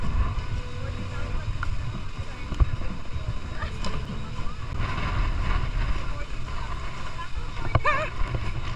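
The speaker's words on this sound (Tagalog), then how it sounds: "Lakas ng hangin." Strong gusty wind in Lobo, Batangas buffets the microphone with a steady low roar, while excited voices call out and talk over it.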